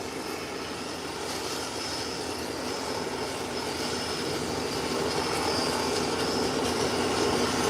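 An airplane moves along a taxiway onto a runway, its engines making a steady, continuous roar that swells slightly louder toward the end, with no voices.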